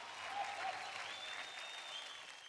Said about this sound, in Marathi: जोरदार टाळ्या होऊन जाऊ द्या या दोघांसाठी